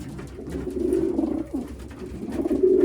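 A Cuevas pigeon hen coos in low, throaty, rolling calls close by, two or three soft bursts with a brief pause between, without any talk.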